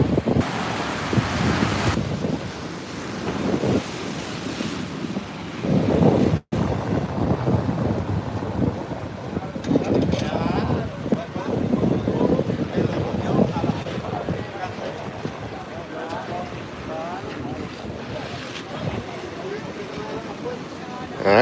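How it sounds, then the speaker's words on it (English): Ocean waves at Las Palmas, Gran Canaria wash and surge beneath heavy wind buffeting on the microphone, while a voice talks over parts of it. "It actually feels as though the waves are dying down a little bit, not picking up"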